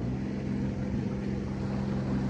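Steady, loud drone of an aluminum boat driven by an outboard jet motor, running continuously on a river with logs and stumps, with no talk over it.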